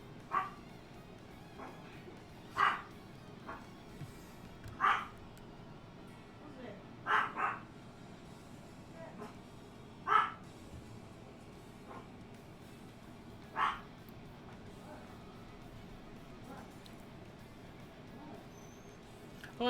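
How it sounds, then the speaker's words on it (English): A pet dog barks about eight times in spaced single yelps over twenty seconds, each bark sharp and moderately close above a steady low indoor background hum. "my dog making all the noise in the world"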